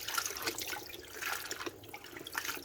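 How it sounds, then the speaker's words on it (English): Warm water poured into a plastic bowl, an uneven splashing, gurgling stream with small surges and drips, close and moderately loud with no talk over it. "So I use me a plastic bowl and pour warm water."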